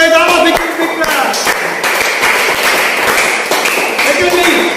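An audience claps for players of a local cricket team coming onto a stage at a finals prize ceremony, a loud steady patter of many hands continuing throughout while an announcer's voice carries over it.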